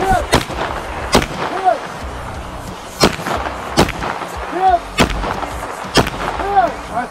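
Pistol gunshots at an outdoor team shooting match, several loud close sharp reports spaced about a second apart, each with a brief echo, with voices under them.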